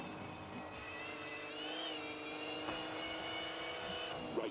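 Rally1 car engine in WRC Generations on a New Zealand stage, a steady droning roar with layered harmonic whine that rises slightly in pitch midway, continuous and fairly loud with no talk over it.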